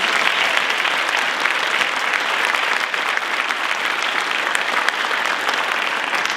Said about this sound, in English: Can I get another round of applause for Julie?